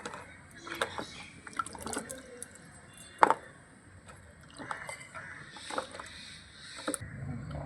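Washed okra being lifted and drained in a basket, with scattered wet drips, splashes and soft rustles at close range, one sharper knock partway through, and no talking.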